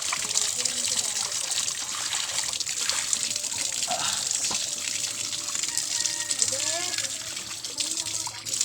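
Water poured and splashing while goats are bathed outdoors on a hot day, a steady broadband wash of trickling and gushing water running throughout, with voices talking faintly in the background.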